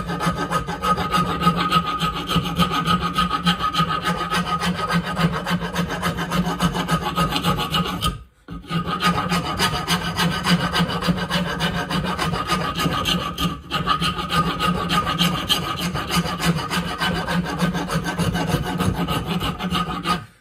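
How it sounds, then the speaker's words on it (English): A wood rasp files steadily along a wooden axe handle, giving a close, loud, continuous scraping rasp with a rhythmic back-and-forth texture that stops briefly twice. "This is just a wood rasp."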